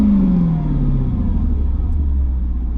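A Mercedes C55 AMG with its M113 V8 running rich, heard close as the engine note sinks from a rev back down into a steady, deep, rumbling idle.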